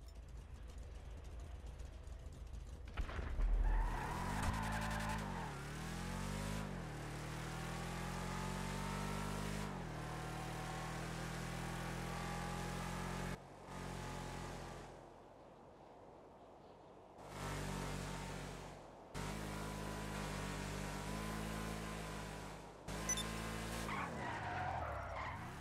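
Rampant Rocket trike in GTA Online, an engine revving and whining with rising and falling pitch, tires skidding and squealing, and brief drops where the throttle cuts before surging again.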